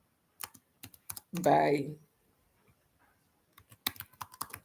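Typing on a computer keyboard while working in a design app: short bursts of close, crisp key taps separated by pauses, with one brief spoken word in between.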